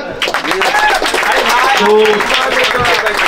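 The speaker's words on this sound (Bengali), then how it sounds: "তো একটু হাততালি হয়ে যাক" Applause for a prize winner at a pigeon racing lovers' programme, a crowd clapping steadily for a few seconds while a voice talks over it, close and fairly loud.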